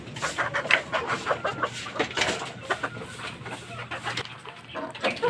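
Fighting roosters cluck after feeding in a close, busy flurry of short overlapping clucks and calls from several birds, with a low steady hum underneath.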